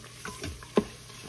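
Tomato paste being stirred into oxtails braising in a pot, a short stretch of wet scraping and soft sizzle with one sharper knock of the utensil partway through.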